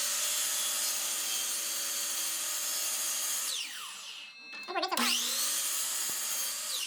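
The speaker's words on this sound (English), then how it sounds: "we're gonna bring it over to the miter saw" Miter saw cutting through reclaimed wood salvaged from the dump: a loud steady whine of the spinning blade, then a brief bite into the wood before the motor spins down and briefly revs again.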